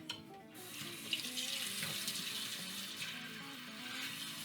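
Running tap water splashes as a whisk and bowl are rinsed at a kitchen sink after mixing challah dough, a steady close gush with small clinks and shifts in the flow, no talk.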